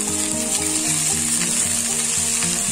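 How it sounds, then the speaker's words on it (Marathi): Ghevda bean pods sauté in a little oil with a dense, steady sizzle close up, along with a repeating low mechanical hum, and no speech. "थोडस तेल घातलं मी, तेलावर आपण चांगल्या अगोदर परतून घेऊया म्हणजे त्या हलक्या होतील"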